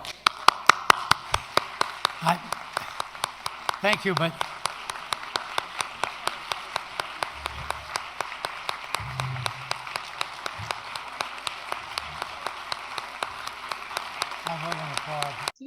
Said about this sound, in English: I thought I would invite all of you to applaud